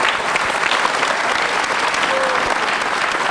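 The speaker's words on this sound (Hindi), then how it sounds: "जोरदार तालियां।" Loud, dense applause from a studio audience at a televised quiz program fills the whole stretch, steady and close without pause.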